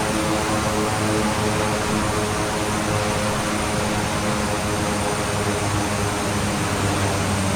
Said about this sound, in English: Landing gear coming down.